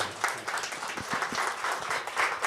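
Audience applause at a book launch event: a short stretch of fairly soft, steady clapping from a gathered crowd, with a few louder individual claps standing out.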